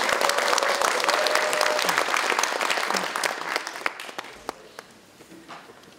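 Applause from an audience at a local council forum on revising local autonomy law, honoring the council chairman, loud and dense at first, then thinning into scattered claps that fade out.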